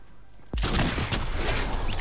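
Gunfire in a video game cat-and-mouse shootout: a sudden loud burst of shots kicks in after half a second of quiet and carries on as a dense, continuous crackle of rapid fire with booming impacts.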